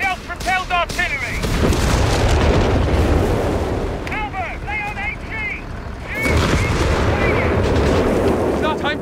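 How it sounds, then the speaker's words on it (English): Self-propelled artillery firing in the real-time strategy game Company of Heroes 3, heavy booms and blasts rolling under a dense battle din, with shouted voice lines from soldiers breaking through repeatedly. "Bishop, self-propelled artillery!"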